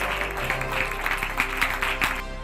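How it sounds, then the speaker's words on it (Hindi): A crowd at an open-air political birthday celebration for Kamal Nath in Chhindwara, India, applauds loudly, with dense, sustained clapping and a few sharper bursts throughout. "केकेएफ परिवार की ओर से जोरदार तालियां"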